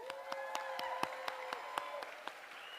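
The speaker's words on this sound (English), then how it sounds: "Give yourselves a round of applause." Steady applause from a group, claps ringing out in a fairly regular rhythm, moderately close, with a sustained tone lingering underneath.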